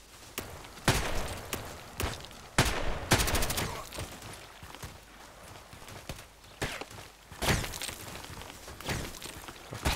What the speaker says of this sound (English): And they're shooting the others all the time.